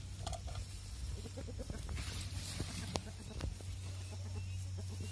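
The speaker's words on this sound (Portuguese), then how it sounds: "O galo, ó, querendo bater o outro." Roosters squabbling on a farm, one trying to attack another, with scattered short clucks and squawks over a steady low hum and faint background noise.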